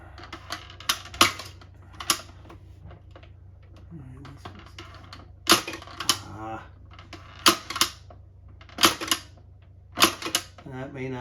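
A 1970s Mattel Slick Shooter toy gun fires a series of sharp snapping shots, irregularly spaced, with faint voice sounds and rustling between them.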